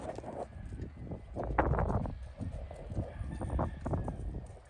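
A Tennessee Walking Horse works in an arena at a running walk, its hoofbeats landing in a quick, even, rolling rhythm that sounds fairly close, with light background noise.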